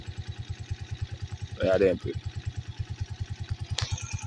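A motorcycle engine idles close by with a rapid, even, thumping pulse that continues throughout, while someone talks briefly over it.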